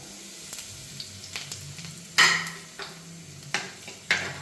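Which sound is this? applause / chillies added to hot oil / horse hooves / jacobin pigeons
chillies added to hot oil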